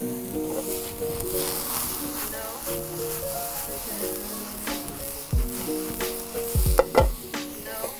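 Rehydrated mushrooms frying for a risotto, a steady sizzle in the pan with occasional stirring clatter and louder pops near the end, layered under background music.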